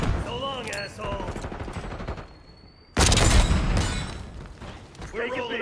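Sentry turret firing in a video game, a sudden loud burst of rapid gunfire and booms erupting midway, interleaved with excited male speech before and after.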